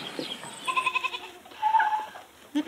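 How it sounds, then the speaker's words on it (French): Corsican goats on a mountain farm in Corse-du-Sud bleat several times in quick succession, nearby and fairly loud, with no talking over them. "c'est des chèvres corses"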